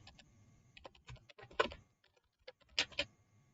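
Fingers type on a computer keyboard in close, uneven bursts of crisp key clicks, with brief pauses between clusters and no talk.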